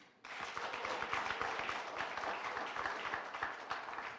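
Steady applause from a crowd at a business breakfast and networking gala, dense clapping that starts abruptly and holds at a constant level throughout.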